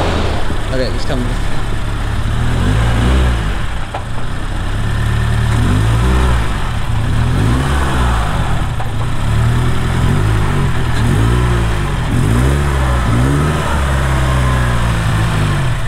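A car engine runs near a Subaru BRZ being fitted with an HKS turbo kit, a low steady rumble with repeated rises and falls in pitch as it revs, with people talking over it.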